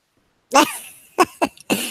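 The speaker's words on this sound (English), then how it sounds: "No, that's a real cough" A man coughs loudly nearby: one harsh cough, then two short sharp coughs and a final rougher one trailing off, with silence before.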